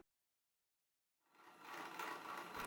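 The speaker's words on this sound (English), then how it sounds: "I used an electric mixer for 3 minutes first." An electric hand mixer beating crumpet batter of bread flour, baking powder, salt and liquid starts up after a second of silence, then runs as a steady, close, continuous whirring buzz alone.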